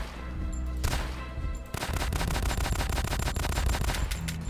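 Rapid automatic gunfire rattles in the video game Gynophobia, a dense, loud burst of repeated shots after a brief single-shot opening, continuing steadily to the end.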